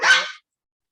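A single short, sharp dog bark, close and fairly loud, cutting off quickly into silence with no other sounds around it.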